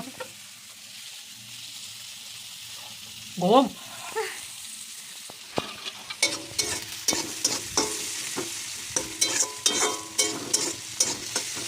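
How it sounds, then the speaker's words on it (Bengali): Potatoes frying in oil with onion and tomato, a steady sizzle with a series of sharp stirring scrapes and clacks in the second half, and a brief voice sounding near the middle. "আলু দিয়ে ভাজা করতেছি"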